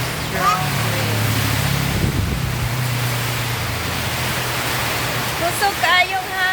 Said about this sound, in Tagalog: So heavy rain and strong wind.